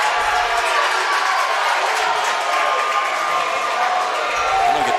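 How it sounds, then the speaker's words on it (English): Crowd at a girls' high school district basketball tournament game cheering and shouting, a dense continuous roar of voices filling the gym, loud throughout. "Lakeway crowd fired up"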